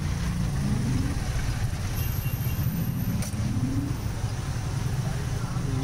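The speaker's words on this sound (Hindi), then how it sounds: "और ये ट्रैफिक भोपाल का।" Street traffic moving through Ibrahimpura market in Bhopal: a steady, loud wash of car and engine noise with a constant low rumble, busy and continuous throughout, with faint voices mixed into the din.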